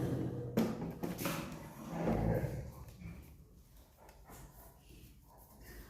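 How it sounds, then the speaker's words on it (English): A dog in the background gives a few yips and short barks in quick succession, then whimpers more faintly, mid-distance and alone. "And that was my dog in the background."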